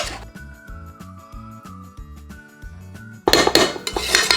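A metal spatula scrapes and clinks around a kadai pan while white rice is tossed in, giving a brisk series of clatters over steady background music, which rises into louder, busier scraping toward the end.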